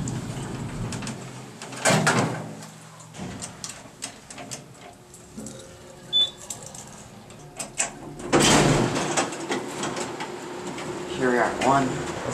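Otis/GAL elevator in a Texas tower in El Paso: doors slide with rumbling thumps and clunks, then the car hums and ticks as it moves, with a person talking throughout.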